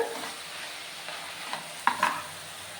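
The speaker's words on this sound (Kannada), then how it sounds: "ಈಗ ಸ್ವಲ್ಪ ಬಾಡಿದೆ ಮೆಂತ್ಯ ಸೊಪ್ಪು ಇನ್ನು ಸ್ವಲ್ಪ ಫ್ರೈ ಮಾಡ್ಕೊಳ್ಳೋಣ" Fenugreek leaves frying in a pan for an egg dish, with a steady soft sizzle and a few sharp scrapes of stirring near the end, no voices.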